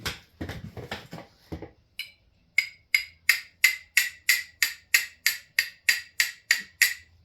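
A low peen hammer strikes a mushroomed screw head to flatten it on a thrift store Peavey Predator guitar, first a quick cluster of light taps, then about fourteen sharp, ringing metallic blows in a steady, even rhythm, close and loud.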